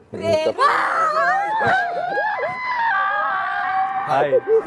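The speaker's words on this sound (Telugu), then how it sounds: "ఎందుకు అలా అరుస్తున్నావు?" A person screams in a drawn-out, wavering wail, loud and close, with a brief break partway through before the cry resumes and rises again at the end, on a Telugu reality TV show launch.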